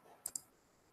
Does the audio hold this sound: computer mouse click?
yes